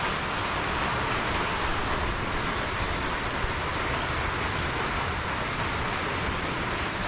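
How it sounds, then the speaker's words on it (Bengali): Heavy rain pours steadily outside a mosque, a dense, unbroken hiss of drops on surfaces that stays loud and even throughout with no voices over it. "প্রায় আধা ঘন্টা থেকে মসজিদের মধ্যে আমরা বসে আছি, এখনো বৃষ্টি থামছে না।"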